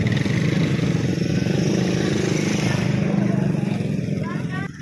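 A motorcycle is being moved along a roadside in a barangay, its engine running steadily and loudly up close. Voices chatter over it throughout.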